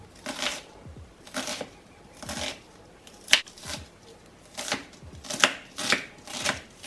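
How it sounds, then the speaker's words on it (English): A knife dices an onion on a cutting board for oven-baked chicken and rice, making rhythmic bursts of quick, crisp chops about every half second, close and clear with no talk. "I'm gonna dice this onion and set that aside"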